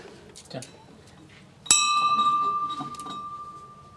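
After some quiet talk, a bell is struck once, loud and near, its clear tone ringing and slowly fading as voices continue.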